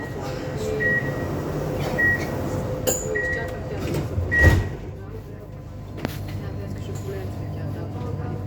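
Sofia metro M3 train doors closing in a station: a few short warning tones sound, then a thump of the doors shutting, all over a steady low rumble of the train and platform noise.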